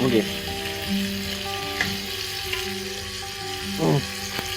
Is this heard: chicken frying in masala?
yes